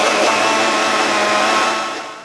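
A blender grinding fish cake whirs steadily at high speed, a dense grinding roar that holds for a couple of seconds before easing off.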